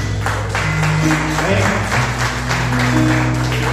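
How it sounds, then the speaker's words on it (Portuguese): A church congregation applauds in a sustained, busy wash of clapping while a voice speaks over it and a held musical tone runs underneath. "Vamos aplaudir o Senhor Jesus, irmão."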